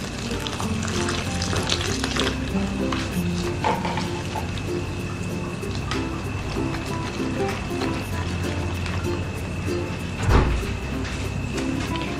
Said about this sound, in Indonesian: Ini kita aduk seperti tadi sampai tidak ada lagi yang bergerindil.